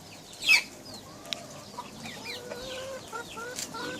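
Backyard chickens clucking softly at a moderate distance, with a brief louder squawk near the start and scattered chirps and calls continuing over steady outdoor background noise.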